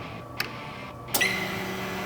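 Security module on a 2023.5 Harley-Davidson CVO motorcycle gives two short sharp clicks close by, followed by a steady high electronic chirp and tone that holds under low background hum.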